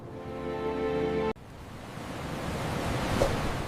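Ocean waves wash onto a shore in a steady broadband rush that swells slightly toward the end, following a brief tonal passage that stops abruptly.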